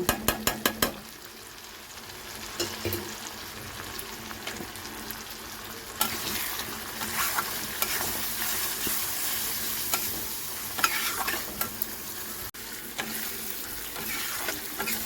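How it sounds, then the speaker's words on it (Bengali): Spice masala of turmeric, cumin and coriander powder sautéing in a pan for soyabean kofta curry, a steady close sizzle with scraping stir strokes throughout, slightly louder in the second half, no talking. "1 টিস্পুন জিরের গুঁড়ো আর 1 টিস্পুন ধনের গুঁড়ো দিয়ে ভালো করে মশলাটাকে কষিয়ে নেব।"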